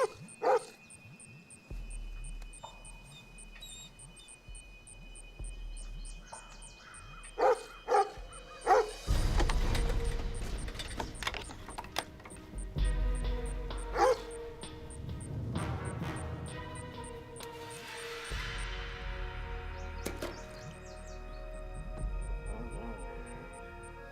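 A dog barks and yips repeatedly at something down in a well, loud bursts over steady rumbling background noise, with a few whimpers mixed in.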